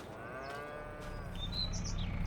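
Cattle mooing in the Farming Simulator 22 video game as the cows are let out, low harmonic calls sounding alongside faint bird chirps over a steady farm ambience, moderately close and fairly quiet.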